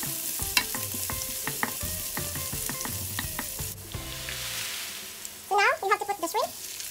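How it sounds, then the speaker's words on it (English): Shrimp stir-fried with string beans, garlic and ginger, with repeated metallic clinks and knocks of a utensil against the pan over a sizzle, then a burst of brisk stirring near the end. "Now you have to put the shrimp."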